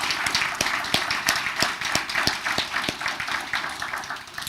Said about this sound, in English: So a huge round of applause for Harshitha.